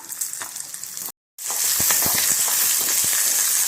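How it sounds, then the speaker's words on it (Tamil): Small onions dropped into hot oil in a pan with chillies and cinnamon for a gooseberry chutney sizzle and crackle steadily, briefly cut by a moment of silence before the frying resumes loudly. "நம்ம எடுத்து வச்சுருந்த சின்ன வெங்காயத்தையும் போட்டு வதக்கிக்கலாம்"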